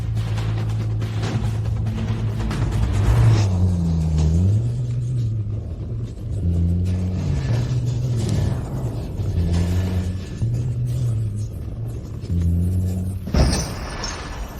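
A car's engine rumbles low and steady for a long stretch, its pitch rising and falling as it revs, with a short clattering burst near the end.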